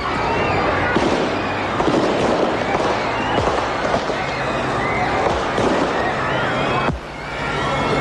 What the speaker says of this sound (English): followed by a hail of gunfire